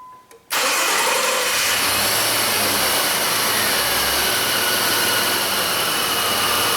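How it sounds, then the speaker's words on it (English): A Jeep Liberty engine cranks and catches abruptly, jumping from near silence into a loud, steady, close running roar that holds to the end, with no talking. "Go ahead and crank it."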